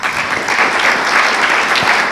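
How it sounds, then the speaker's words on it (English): An audience claps loudly and steadily at a national political launch event in Kenya, a dense wash of clapping heard alone with no speech over it. "Can we applaud them?"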